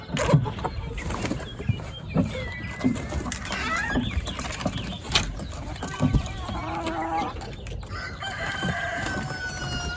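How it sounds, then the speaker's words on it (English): Hens in their run cluck and squawk continuously at close range, overlapping calls with occasional louder bursts and some rooster-like crowing throughout. "So here come the happy hens."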